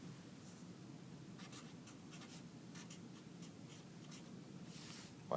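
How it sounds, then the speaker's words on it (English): Handwriting on paper while working through physics notes on 2D motion: faint, close scratching pen strokes in short irregular bursts over a quiet background, with no speech. "why did I write a D there?"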